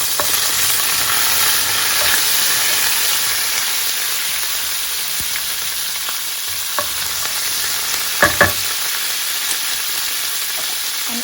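Fennel seeds and spices sizzle steadily in hot oil in a pan for a spicy masala coconut fish curry, a loud continuous frying hiss with a few stirring clicks near the end.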